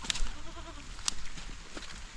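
A newly arrived goat, frightened and unsettled beside two companions, bleats in a couple of short, mid-loud calls close by, with rain and farm noise in the background.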